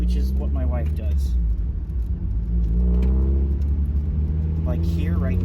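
A Mazda Miata whose exhaust has fallen off drones loudly and steadily at light throttle, a low rough rumble running throughout with speech over it.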